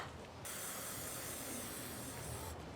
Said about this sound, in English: So I think the trick was to use WD-40 to try and lubricate this shaft right here.